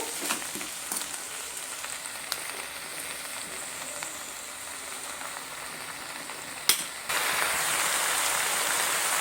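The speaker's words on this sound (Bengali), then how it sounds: "নুনটা দিয়ে এবার আমি এইভাবে খুন্তি দিয়ে এইভাবে একটু নেড়ে চেড়ে নেব" Greens being stirred and fried with a spatula in a pan, giving a steady bright sizzle with a few faint scrapes and a short clatter before the frying grows louder.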